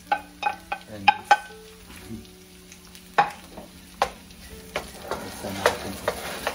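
Garlic, ginger and tomato are sautéed in a pan: a soft sizzle runs underneath while a utensil scrapes and taps the pan in a series of sharp strokes, close and clear, with no talking.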